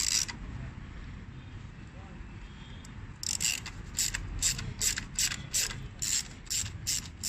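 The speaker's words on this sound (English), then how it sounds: "Then you take off this bolt." A ratchet wrench loosens a bolt during a water pump replacement on a four-cylinder Honda, its rapid clicking bursts repeating in a steady rhythm close by over low workshop noise.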